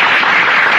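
A short, loud burst of audience applause at an adult comedy show, a dense, steady wash of clapping with no pause.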